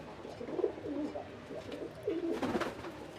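Pigeon cooing from a female Bhutgola pigeon with yellow-ringed eyes: soft, low, rolling coos repeat through the clip, close by, with a louder burst near the end and no talk.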